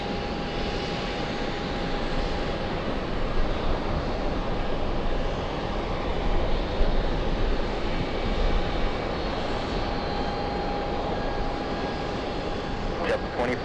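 An airliner on the Orlando flight rumbles and whines steadily at the airport, a continuous broad engine roar with a faint tonal whine, sustained throughout with little change.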